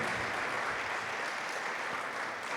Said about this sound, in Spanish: ¿Quién quiere dar un aplauso al Señor por lo que Dios está haciendo en esta casa, en esta familia?